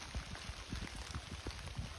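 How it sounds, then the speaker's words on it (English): Rain falls steadily through woodland during a shed-antler hunt, a soft continuous patter of drops with scattered closer plinks, fairly quiet and with no voices. "Still raining"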